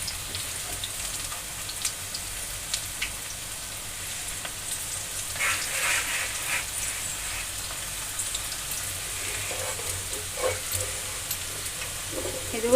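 Pakoda fritters fry in hot oil at a hotel-style stove, giving a steady crackling sizzle like light rain, with bursts of louder popping and a few clinks of a utensil, no voices.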